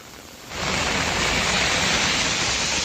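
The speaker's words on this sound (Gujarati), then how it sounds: "છેલ્લા વીસ મિનિટથી ડીસામાં જે ધોધમાર વરસાદ શરૂ થયો છે" Heavy rain pours down over a town in Deesa, Banaskantha, Gujarat, a dense roaring hiss that surges in after a brief quieter moment and stays loud and constant.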